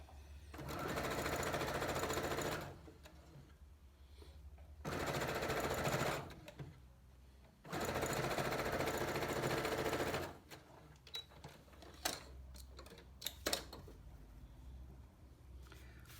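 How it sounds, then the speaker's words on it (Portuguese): Sewing machine stitching a seam on a fabric tree panel, running in three sustained bursts of a few seconds each with short pauses between, followed by quieter handling clicks and rustles. "Costurei um lado, a mesma coisa do outro lado."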